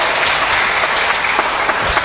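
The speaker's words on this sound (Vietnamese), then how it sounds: "Hãy vỗ tay cảm tạ Đức Chúa Trời" A church congregation breaks into sustained applause during a Protestant sermon, a dense, close wash of many hands clapping with no clear speech.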